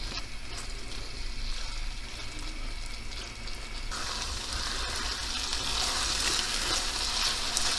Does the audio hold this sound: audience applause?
no